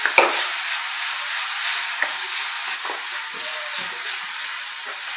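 Paneer masala spice paste stirred and fried in a pan, a steady bright sizzle with scraping spoon strokes and a few soft knocks throughout, close and continuous with no voices.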